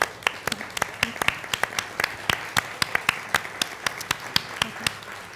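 Scattered hand claps from an audience standing at a school district event, individual sharp claps spaced irregularly rather than a full roar, moderately loud with a faint murmur of voices beneath.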